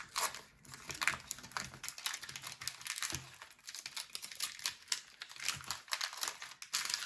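Crinkling plastic wrapper of a 1989 Topps baseball card wax pack being torn open and handled, a steady run of close, bright crackles and rustles with no talk.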